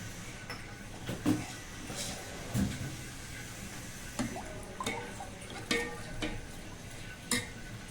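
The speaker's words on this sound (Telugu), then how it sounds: "ఇప్పుడు కొంచెం కరగనిద్దామండి దీన్ని. ఇలా తిప్పుకుంటూ ఉంటే అయితే కరిగిపోతుంది." Organic jaggery melts in a pan on the stove while a spoon stirs it, giving soft scraping strokes every second or so over a faint sizzle. The sound is quiet and close, with no talking.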